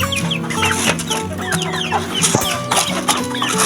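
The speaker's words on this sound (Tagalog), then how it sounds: "Ayan mga kamanok." Six-month-old Shamo chickens cluck steadily in a busy flock, short overlapping calls stacked close together with no voices.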